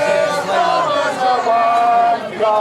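A protest crowd outside a migrant hotel in Southampton, loud massed chanting and shouting close by, rising and falling in waves.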